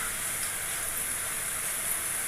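Mixed vegetable pakoras fry in hot oil with a steady, dense sizzle and hiss, continuous and even throughout with no talking.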